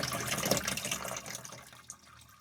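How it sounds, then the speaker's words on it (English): Water runs steadily into a washing machine tub, a soft continuous splashing and trickling that eases off toward the end. "I'm going to put a little water in. Tub here, so we got an inch of water in there."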